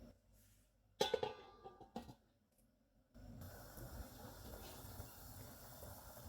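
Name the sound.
pot of mutton pulao water coming to a boil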